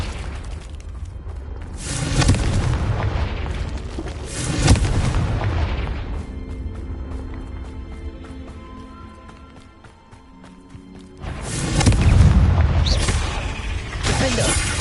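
Booming Confringo fire-spell explosions go off in Hogwarts Legacy, three loud blasts a few seconds apart, each with a rolling rumble, while quieter game ambience fills the gaps between them.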